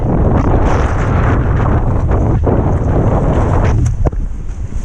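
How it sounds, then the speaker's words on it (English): Heavy wind buffets the microphone during parawing foiling, producing a loud, constant low rumble with gusty roaring throughout. "Really windy."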